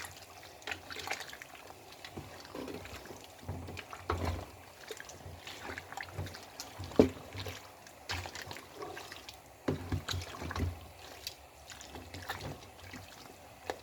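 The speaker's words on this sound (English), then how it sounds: "I'll give it a stir." Oha soup with smoked fish and stockfish is stirred in a pot, soft wet sloshing and scraping strokes repeating close by at low volume, with no talking.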